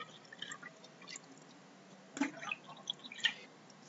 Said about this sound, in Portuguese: Pôr água aí nos copos.